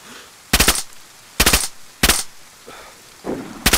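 Gunfire in the video game DayZ: four loud, sharp bursts of rapid shots spaced about a second apart, each a tight cluster of cracks over a quiet background.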